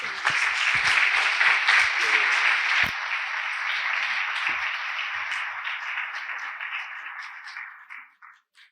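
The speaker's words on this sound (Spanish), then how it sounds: "los recibimos con un fuerte aplauso" A crowd applauds loudly with dense, steady clapping that gradually thins out and fades to scattered claps at the end.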